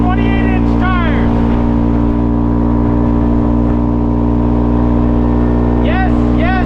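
Loud close engine drone from a CFMOTO ZForce 500 UTV on 28-inch tires, holding steady under load through the run, with a person speaking over it near the beginning and again at the end.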